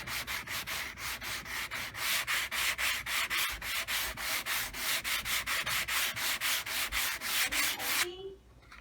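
Close, loud back-and-forth strokes of 220-grit sandpaper on a wooden furniture piece being repaired form a steady rhythmic scratching of many even passes that ends abruptly. No one speaks.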